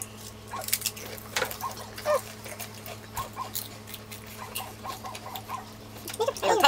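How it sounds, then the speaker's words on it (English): A dog barks several times at a distance, with short, faint yelps scattered over a low steady hum in a quiet room. "Y'all hear our Ziggy out there barking?"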